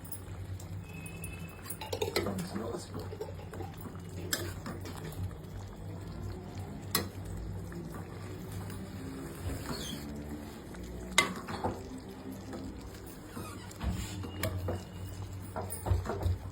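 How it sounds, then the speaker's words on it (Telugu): Chicken curry with chicken masala being stirred in a pot at home, giving steady soft scraping and liquid stirring with occasional sharp clinks of the spoon against the vessel, at moderate level under a constant low hum. "ఉడుకుతున్న చికెన్ లో చికెన్ మసాలా వేసుకోవాలి."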